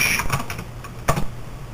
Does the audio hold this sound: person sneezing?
no